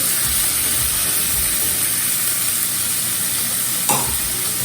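Chopped tomato and peas sizzle steadily in a hot pan for semolina (rava) khichdi, a loud continuous frying hiss with stirring and one brief scrape of a utensil near the end.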